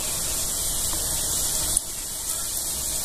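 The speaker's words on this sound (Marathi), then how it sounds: "आता इकडं आपण तळायला घेऊया. एक एक घालून घ्यायचे आणि कमी तेलातच आपल्याला" Wheat-flour sweets fry in a small amount of hot oil over a low flame, giving a steady, close hiss with a soft pop partway through.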